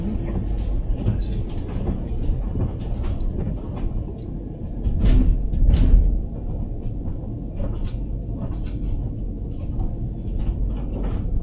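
A train rumbles steadily along the rails with a low, continuous roar, swelling briefly midway, while faint voices murmur in the background.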